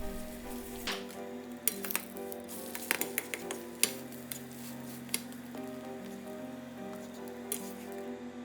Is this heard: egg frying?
yes